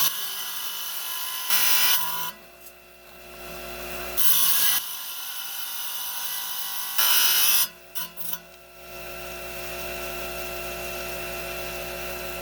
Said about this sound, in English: Okay, got the trim saw cranking here.